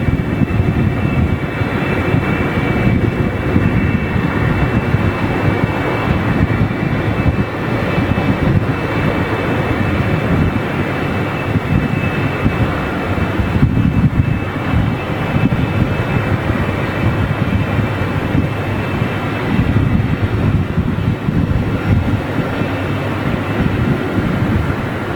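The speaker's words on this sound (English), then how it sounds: "And here is that beautiful 747 creeping up on us." A Boeing 747 with Rolls-Royce engines at Heathrow Airport, a loud, steady broadband roar of jet engines that holds for the whole stretch with gusty wind buffeting the microphone and no voices.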